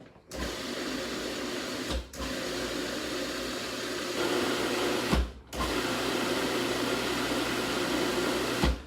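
A pasta machine runs on garlic scape dough, a steady mechanical whir broken by two brief stops before it starts again, close and fairly loud with no talking.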